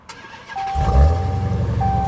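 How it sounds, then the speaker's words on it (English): Dodge SRT Hellcat engine cranking and firing up, a loud burst of low rumble at startup that settles into a steady, deep idle, with a faint dashboard chime heard early and later. "this is gonna be my first time turning on a Hellcat"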